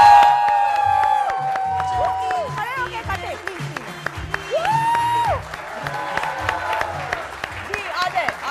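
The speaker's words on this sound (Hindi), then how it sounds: "ताली और बुलाइए इनको।" Studio audience on a Pakistani weekend talk show applauding and cheering as guests are called up, with a steady stream of clapping and crowd noise running beneath loud, animated voices of the host and others talking over it.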